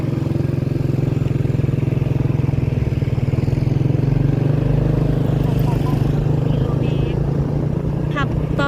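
A motorcycle rides steadily along a rural road on the way to a wedding, its engine droning loud and constant throughout, with wind rush on top and a voice speaking over it.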